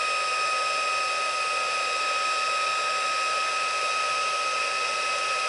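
A heat embossing tool blows hot air steadily across a stamped card, a loud, continuous whirring hiss with a high whine that holds unchanged throughout, with no voices over it.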